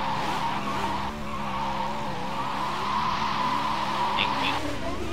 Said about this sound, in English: I want to drive my car here real quick.